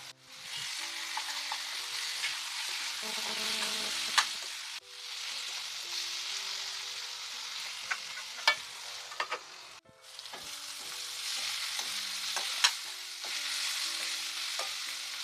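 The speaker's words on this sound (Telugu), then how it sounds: "కొంచెం అల్లం వెల్లుల్లి పేస్ట్ వేస్తున్నాను" Ginger garlic paste frying in a pan for a bitter gourd, sorrel leaf and chana dal curry, a steady close sizzle with scraping stirs and a few sharp clicks of a spoon against the pan.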